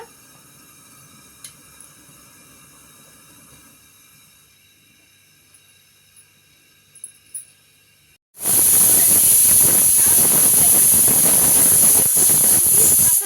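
A pressure cooker holding mutton curry on a stove lets out a sudden loud, steady hiss of steam after several seconds of near silence, the release continuing unbroken to the end.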